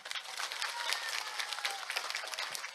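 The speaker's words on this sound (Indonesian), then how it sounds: "Tepuk tangan untuk panitia." An audience at an Islamic sermon gathering breaks into brief applause for the organizers, a dense, fairly soft patter of many hands clapping for a few seconds.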